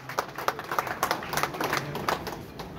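Audience on stage at an Odisha cultural event claps to welcome guests, giving a quick, sparse patter of hand claps, moderately close and fairly light.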